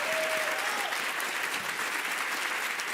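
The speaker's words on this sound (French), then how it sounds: "On l'applaudit très très très fort." A studio audience on a French midday game show applauding loudly, a dense, steady wash of clapping that holds throughout, with a faint voice briefly under it at the start.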